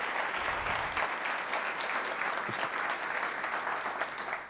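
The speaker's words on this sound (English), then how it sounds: "let's give an applause for this presentation first" Dense, continuous audience applause in a tech conference hall after a stage presentation, loud and steady throughout with no voices over it.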